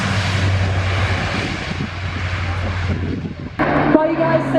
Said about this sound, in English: It's going to be a takeoff, and then there'll be another departure pass through the overhead.